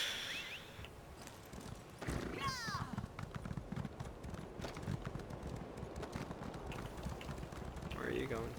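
Rhythmic clip-clop of horse hooves galloping in the Elder Scrolls Online game, steady and moderately loud under ongoing talk, with brief whinny-like calls near the start and end.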